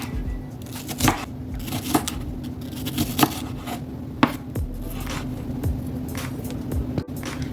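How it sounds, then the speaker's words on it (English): A knife chops mushroom into small pieces on a board, giving irregular close taps spaced about a second apart over a steady low hum. "Cut some mushroom into small pieces."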